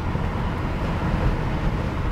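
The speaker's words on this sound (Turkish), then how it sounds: "Otobüs geliyor ya." A bus on a road, a dense low rumble of engine and road noise, steady and fairly close, with no talk over it.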